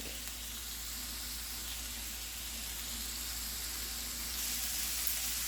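Taco meat with seasonings sizzles steadily in a pan, a continuous broadband fry hiss that holds even and fairly quiet from start to finish, with no voices over it.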